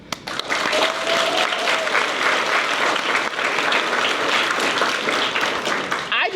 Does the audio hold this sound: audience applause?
yes